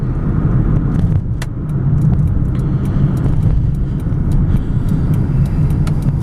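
A 1987 Mazda 626 driving, its steady engine and road noise loud and close throughout, with faint rattles and clicks from the cabin and no talking.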